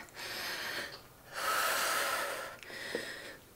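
Breathing during a bodyweight butt and thigh workout: a few loud, close breaths, with a long forceful inhale or exhale in the middle set between shorter puffs, and no speech.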